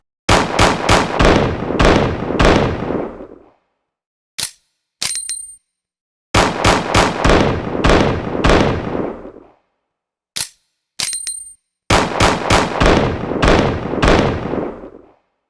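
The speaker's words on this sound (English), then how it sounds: "Let's do some more firing." Handgun fired in Resident Evil 2, three bursts of several rapid, loud shots each, with short metallic reload clicks in the gaps between bursts and no talking.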